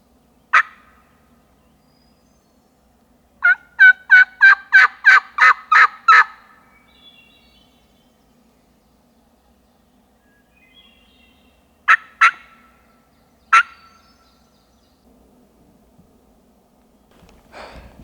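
A wild turkey gobbler in Ontario hunting country gobbles several times from a distance: a lone burst, then a rapid string of notes, then scattered single gobbles, all separated by quiet.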